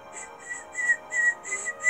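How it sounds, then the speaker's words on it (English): A person whistles a short run of bright, clear notes, about six repeated phrases in a bouncy rhythm, close and fairly soft with no talking. "No whistling!"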